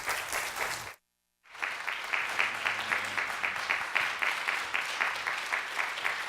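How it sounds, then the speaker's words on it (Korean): A Korean church congregation at Lancaster Baptist Church stands and applauds a visiting pastor; clapping starts, breaks off into a brief silent gap, then resumes as steady, evenly paced rhythmic applause that holds to the end. "여러분 일어나셔서 박수로 맞아주시면 감사하겠습니다"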